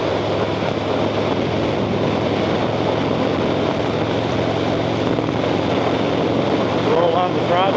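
A Harley-Davidson Softail Fat Bob motorcycle accelerates in sixth gear, its engine a steady loud drone heavily buffeted by rushing wind against the rider's microphone, with no break across the stretch.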